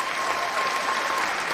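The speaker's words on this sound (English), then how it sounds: "I'm gonna get some applause in chat for you." Applause sound effect played during a livestream: a steady, dense wash of clapping hands throughout, loud and continuous with no voices over it.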